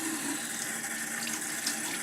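Tap water runs steadily into a sink while a makeup brush soaked in a stain remover solution is rinsed, a continuous close splashing hiss with no talk.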